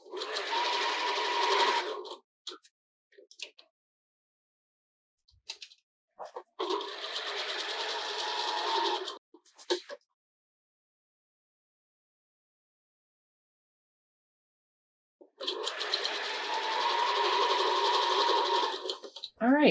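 A sewing machine stitching the layered band of a sports bra, running in three long steady bursts separated by quiet pauses and brief handling sounds.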